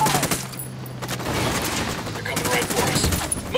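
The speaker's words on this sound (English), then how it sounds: "I'm shooting these fuckers." Gunfire in the video game Ghost Recon Wildlands, several sharp bursts of shots separated by brief gaps over a rumbling game background, fairly loud with a muffled voice faintly underneath.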